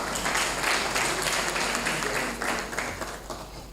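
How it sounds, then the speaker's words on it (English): An audience at a formal African Traditional Medicine Day ceremony applauds in a steady, dense wash of clapping that fades slightly toward the end, with faint voices beneath. "Please a round of applause for him."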